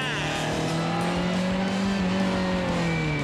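A race car on a lap, its engine droning loud and continuous with a rising, sustained pitch as the driver gets back on the throttle.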